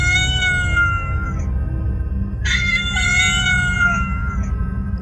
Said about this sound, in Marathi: ती मांजरा अक्षरशः त्यांच्या घराबाहेर सून